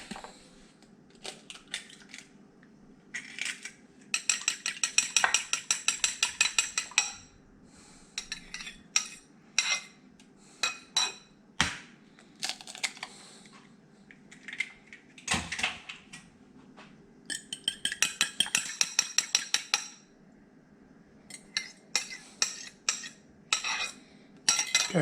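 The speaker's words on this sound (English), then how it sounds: "I'll go ahead and beat an egg and put a beaten egg in each one" An egg beaten with a fork in a bowl, then added to flaked canned Alaskan pink salmon, heard as bursts of rapid close clinking and tapping separated by pauses and occasional clunks.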